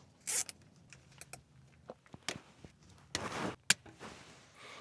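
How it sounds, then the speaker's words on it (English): Plastic zip ties ratchet sharply as they are pulled tight around wires and a hose during a third function kit install, with several quick zipping bursts separated by small handling clicks and taps, close and fairly loud. "what I'm going to do is zip tie all of these wires"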